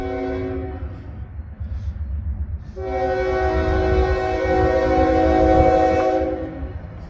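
A slow-moving Union Pacific train with three engines rumbles past, its horn sounding in a short blast and then a long, loud sustained blare over the heavy rolling noise.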